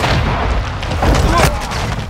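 A sentry gun firing in the video game Call of Duty Warzone on Ashika Island, dense booming gunfire over a rumbling battle bed, loud and continuous with muffled game sounds mixed in.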